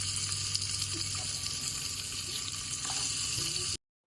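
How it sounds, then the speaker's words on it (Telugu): Sliced onions frying in hot oil in a large pan for a mutton curry, giving a steady, loud, close hiss and sizzle throughout that cuts off abruptly at the end. "ఉల్లిపాయలు వేగుతున్నాయి చూడండి"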